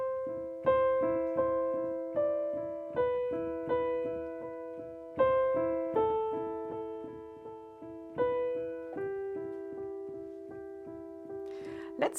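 A piano playing a simple, slow emotional melody: single sustained notes struck at a steady pace over a repeating lower note, each decaying gently, played alone and clearly.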